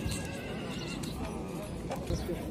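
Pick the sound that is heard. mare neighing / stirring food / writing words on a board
mare neighing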